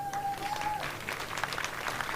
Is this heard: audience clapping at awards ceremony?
yes